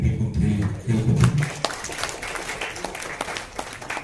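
Audience applause at a Kannada award ceremony: a muffled voice or music at first, then a dense spread of hand claps from a crowd that carries on steadily at moderate loudness.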